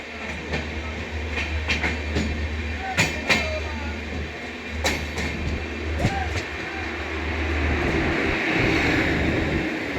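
An Indian Railways special express between Prayagraj and Delhi, hauled by a WAG7 locomotive, running at speed: a constant low rumble with sharp rhythmic clacks of wheels over rail joints, heard from on board.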